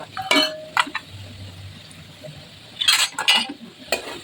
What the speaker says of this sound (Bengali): এবার আলুগুলোকে আমি কড়াই থেকে তুলে নিচ্ছি।